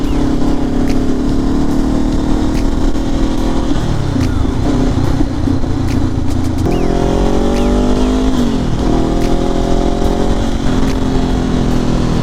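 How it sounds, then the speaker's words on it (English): A Nissan 350Z convertible's engine drones loud and close while out for a spin, its pitch stepping up and down through gear changes with a steady exhaust rumble throughout. "Little 350Z convertible."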